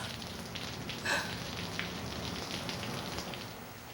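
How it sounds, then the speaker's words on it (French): Steady rain patters on a surface as a soft, even hiss, with a few brighter drops standing out, faint and constant throughout. "Oh, encore la pluie."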